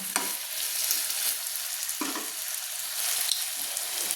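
Potatoes fry in a pan with a steady bright sizzle while a spatula scrapes and stirs them in a few distinct strokes, close and alone with no talking.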